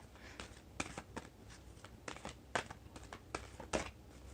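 Close-up card shuffling: a series of quick riffling bursts, each a crisp papery flutter, repeated about a dozen times with brief gaps, no voices.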